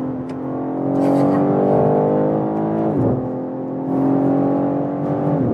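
A BMW M3 Touring pulls hard on a German autobahn, its engine note holding a steady droning harmonic whine that dips briefly and climbs again, loud and close throughout, with faint voices inside the cabin.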